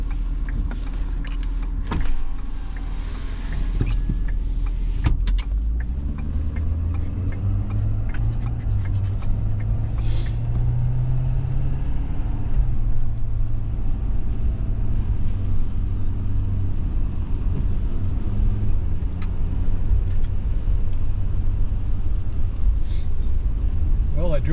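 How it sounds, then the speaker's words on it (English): Inside a car driving on a mesa, a continuous low road and engine rumble fills the cabin, with a rising then falling hum midway as speed changes and scattered clicks and knocks throughout. "I'll go for a little drive."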